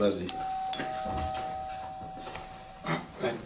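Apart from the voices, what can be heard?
doorbell ringing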